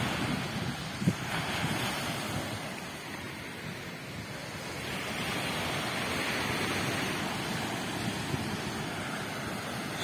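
Sea waves wash in at Nazaré beach in Portugal, a continuous surf roar mixed with strong wind buffeting the microphone, swelling and easing over several seconds.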